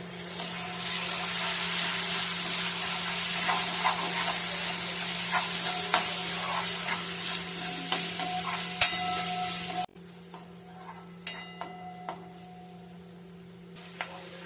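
Onion and tomato sauté in a pan for an egg curry with a continuous close sizzle and occasional spoon scrapes and ticks. The sizzle drops sharply partway through, leaving quieter scattered clicks.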